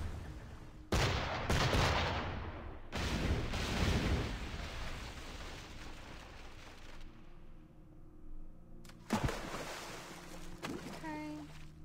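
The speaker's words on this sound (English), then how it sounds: "Are you shooting at that thing?" Heavy cannon and gun fire in Assassin's Creed Rogue, loud booming volleys that roll on for several seconds, then fade, before another sharp blast near the end.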